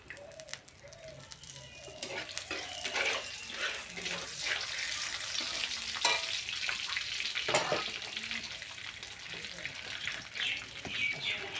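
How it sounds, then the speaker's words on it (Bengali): Whole spices, cardamom pods, cinnamon sticks and bay leaves, fry in oil inside a rice cooker, a steady low sizzle with scattered crackles and stirring scrapes throughout. "এটা একটুখানি ভেজে নিয়ে এর মধ্যে দিয়ে দেবো"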